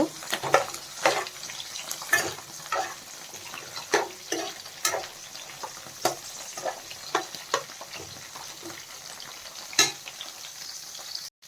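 Drumstick pieces (moringa pods) shallow-frying in a pan, a constant soft sizzle broken by repeated spatula scrapes and taps at a fairly even pace, close and moderately quiet.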